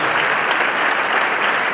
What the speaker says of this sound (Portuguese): Então quero que vocês aplaudam o Senhor Jesus pela vida da nossa pastora